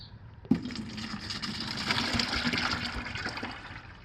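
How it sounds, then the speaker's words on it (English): A gallon of water pours steadily into a 2-gallon watering pot, a continuous splashing gush that starts abruptly and runs loud and close for several seconds. "Since I'm using a 2-gallon watering pot, I'm going to add 1 gallon of water"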